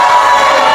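A hall audience at a 2024 regent candidate debate in Kubingan breaks into applause, a dense, steady wash of clapping that fills the whole brief moment without a pause.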